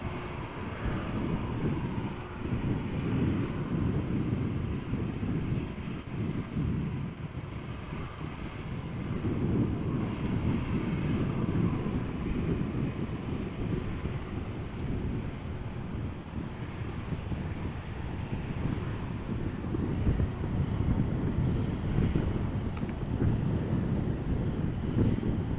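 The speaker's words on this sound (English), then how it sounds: "that there is the third plane coming this way, Embraer 175, outbound to Gothenburg" KLM Embraer 175 regional jet passing outbound to Gothenburg at Amsterdam Schiphol, a low rumbling engine roar that swells and ebbs over nearly half a minute, mixed with gusty wind buffeting the microphone.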